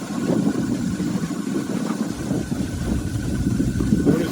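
A first-generation Dodge D150 engine idling with an AC compressor bypass pulley fitted, a steady low, rumbling idle with an even mechanical churn, heard close up and alone.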